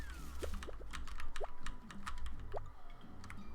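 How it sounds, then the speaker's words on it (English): A computer keyboard's Q key is struck repeatedly in quick, uneven bursts of sharp clicks during a Spiral Scouts speedrun, close-up, with soft game blips underneath and no voices. "I just keep slapping the Q on my keyboard."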